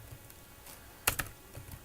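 A few quick keystrokes on a computer keyboard while a Java program is typed, faint against a hissy background, with a pair of sharper clicks in the middle.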